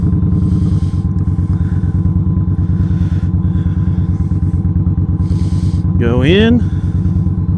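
A motorcycle with mini ape handlebars idles and rolls slowly on a safety course, its steady low engine drone continuous and close, with a brief squealing whine near the end and a person talking over it.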